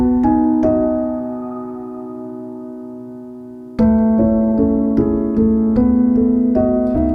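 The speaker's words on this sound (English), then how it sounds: "So here I've got it set up on a piano coming from Aurora, and completely dry it sounds like this." Dry, unprocessed piano from the Aurora instrument plays a few sustained notes, then a new phrase of struck chords and melody notes enters more loudly midway, with no reverb and no talking.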